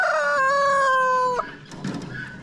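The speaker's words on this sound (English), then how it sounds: "chicken here, big cocks like a bird." A rooster crows loud and close, a long drawn-out cock-a-doodle-doo, followed by softer farmyard rustle and low clucking among a flock of chickens just waking up.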